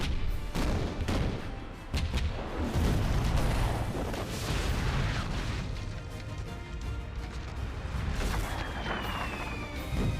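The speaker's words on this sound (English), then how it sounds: "Prepare to run out the guns. On my command, fire!" Cannons fire in the video game Shogun 2: Fall of the Samurai, with loud overlapping blasts and booms rumbling continuously through the whole stretch.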